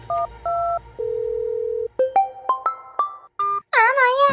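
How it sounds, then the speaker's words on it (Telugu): Phone keypad tones beep in a quick sequence of separate notes, held pairs and then short rising presses, ending in a brief warbling ring signal as a call is placed, clear and close with no talk. "ముక్కుగాడికి ఫోన్ చేద్దాం."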